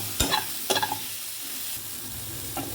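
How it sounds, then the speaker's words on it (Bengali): Cauliflower florets frying with red chilli powder in a pan, heard as a low steady sizzle broken by two sharp stirring scrapes early on and a softer one near the end, close and moderately loud, no talking. "ফুলকপিটা অ্যাড করে দিয়েছি। এবার একটু ভাজা ভাজা করে তুলে নেব"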